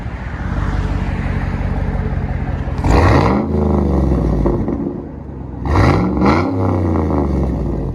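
Aftermarket exhaust on a GMC Yukon Denali with a 6.2L V8, idling with a deep rumble and then revved hard twice, each rev a loud rising roar that falls back to idle, close by with no talking.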